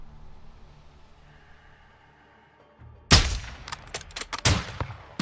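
Sniper rifle fire in the Call of Duty: Modern Warfare II video game, with a loud sharp gunshot after a quiet stretch, followed by several more rapid bangs and impacts close by.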